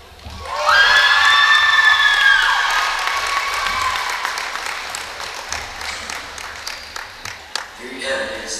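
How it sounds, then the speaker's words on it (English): A gym crowd at a high school girls' basketball senior night bursts into loud applause and cheering with a few whoops, then the clapping thins to scattered claps near the end. "Please give these young ladies a round of applause."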